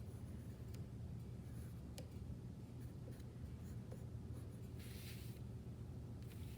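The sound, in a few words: pencil drawing flowers on paper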